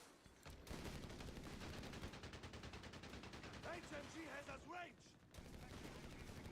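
Machine gun fire in the World War II strategy game Company of Heroes 3, rapid sustained bursts of automatic fire with other battle noise, fairly loud throughout with a brief lull near the end.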